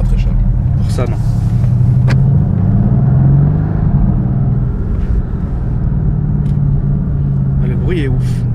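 A Mercedes-AMG GT S engine rumbles deep and steady from inside the car while driving, with a low continuous drone under people talking.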